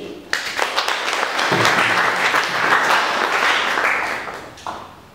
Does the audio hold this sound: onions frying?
no